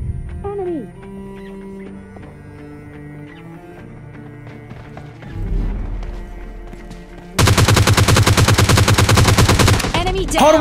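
Rapid automatic gunfire from the mobile shooter PUBG Lite, loud and dense, bursting in near the end after quieter game sounds and music-like tones.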